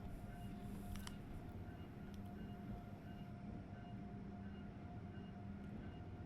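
Amtrak Acela Express train in Train Sim World 3 running at a steady pace, a continuous low rumble and hum with a faint steady whine, brief light clicks early on, no talking.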